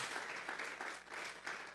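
Brief, faint burst of clapping from a Sunday church congregation offering applause to God, a soft continuous patter of many hands heard at a distance.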